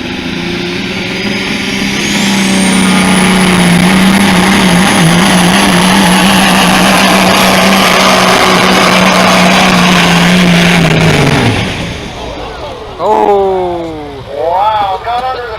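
A Peterbilt pulling truck with a Caterpillar engine roars loud and steady at a tractor pull, a turbo whine climbing over the drone before the engine cuts off and a crowd and announcer's voice follow.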